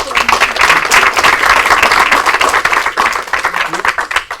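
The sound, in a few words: audience applause at a town meeting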